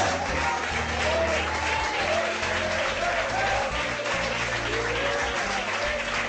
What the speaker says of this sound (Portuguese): Aplauda o nome do Senhor nessa noite.